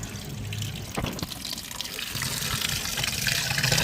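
Red flattened rice (aval) is rinsed and squeezed by hand in water, giving splashing, sloshing and trickling sounds close up, with a brief louder slosh near the start.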